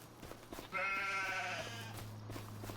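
Goats on a farm in Farming Simulator 25, with one loud, drawn-out bleat of about a second over a steady low hum.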